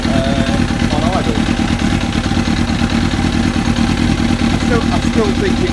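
A Kawasaki ZX7R Ninja four-cylinder motorcycle engine idles after carburettor adjustment, a loud, close, steady throb with a slightly lumpy rhythm, while a voice talks over it.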